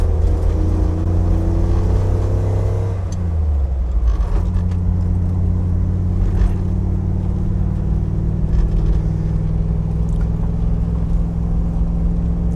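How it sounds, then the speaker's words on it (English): A restored Ford Bronco with a fuel-injected Coyote 5.0 aluminum V8 rumbles steadily from inside the cabin on a test drive, the engine note dropping and settling into an even drone with faint rattles and clicks throughout. "Specifically, this is Bronco number 24, and let's take it out on a little bit of a test drive."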